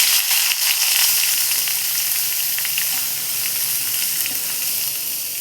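Salted bitter gourd pieces hiss and sizzle steadily in hot oil in a pan over a low flame, a dense broadband frying crackle that holds continuous and fairly loud throughout, with no talking.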